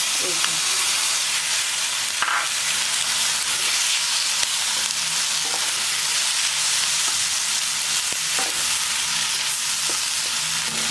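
Pasta sauce sizzling and bubbling in a hot pan on a gas stove while being mixed, a continuous bright frying hiss broken by occasional spoon knocks against the pan.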